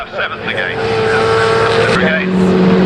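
Historic Formula Ford 2000 race cars lapping Oulton Park, engines loud and close throughout, one car slowing with a falling drone before others rise in pitch; race commentary talks over it.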